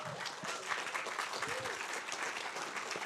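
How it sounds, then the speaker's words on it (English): Audience applause after a talk on raising a Russian submarine, a broad, steady wash of many hands clapping at moderate distance, with faint voices mixed in throughout. "Let's give Charles a big round of applause for tonight."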